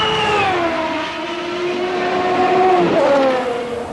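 A car passes with a sustained, steadily falling engine drone and a sharp pitch shift near the end, loud and close with no talking.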